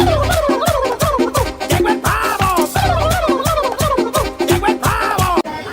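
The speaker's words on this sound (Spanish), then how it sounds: "¡Llegó el pavo!" A turkey gobbles repeatedly and loudly up close, rapid warbling bursts in quick succession, one after another with brief gaps.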